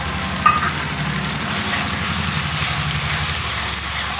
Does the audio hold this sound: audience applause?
no